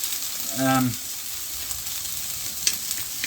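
Krill frying in a pan, a loud steady sizzle that continues throughout, with a brief tonal sound near the start and a small clink later on.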